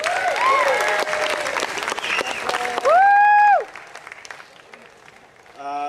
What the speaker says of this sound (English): How about a big round of applause for the sits?